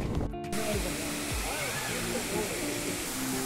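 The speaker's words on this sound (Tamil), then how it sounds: "இதுதான் ஃபைவ் ஃபால்ஸ்" Five Falls waterfall at Courtallam, Tamil Nadu, pours with a steady broadband rushing roar, while a person talks briefly over it.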